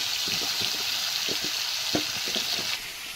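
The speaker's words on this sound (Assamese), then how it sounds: "এইফালে মাংসখিনিও ভজা হৈ আছে" Chicken meat fries with potatoes in a pan for a village-style dish, a steady wet sizzle with scattered scraping stir strokes, close and loud, with no voices.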